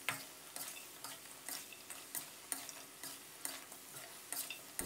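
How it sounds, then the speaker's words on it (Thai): Chicken and cashews are stir-fried in a hot pan, tossed to coat in sauce, with repeated scraping strokes in a steady rhythm over a faint sizzle. "ให้เราผัดคลุกเคล้าให้เข้ากันนะครับผัดให้น้ำซอสเคลือบไปที่วัตถุดิบของเราเลยนะครับ"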